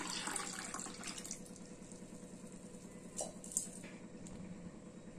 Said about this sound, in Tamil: இப்போ ஒரு பாத்திரத்தில் நான் ஒரு மூணு டம்ளர் வந்து தண்ணி சேர்த்துக்கிறேன்